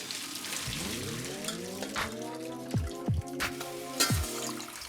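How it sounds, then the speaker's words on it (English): Dirty water from washing chicken bones is poured out, a close, faint running pour with several sharp splashing glugs toward the end. "Pour out the dirty water."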